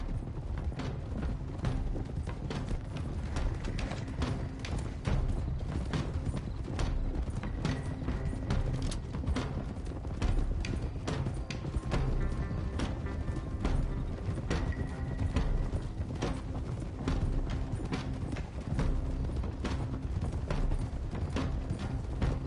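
Horse hooves clip-clop in a steady, even rhythm as a group rides on horseback in Red Dead Redemption 2, with tack and gear creaking faintly underneath and no talk over it.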